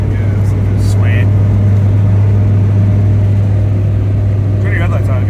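A Toyota Tercel 4WD wagon with a swapped 4A-C engine cruises at steady speed, its low engine drone constant and loud throughout, with brief voices over it.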